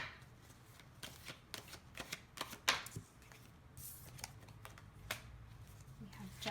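Tarot cards shuffled and handled in a series of crisp riffling and flicking bursts, fairly close and quiet, with a soft low hum beneath.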